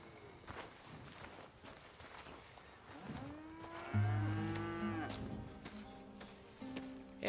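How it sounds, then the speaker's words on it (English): Cows moo on a ranch in the Red Dead Redemption 2 video game, several long, drawn-out bellows close by, one after another, with soft footsteps and ambient rustling between them. "Here's the cows."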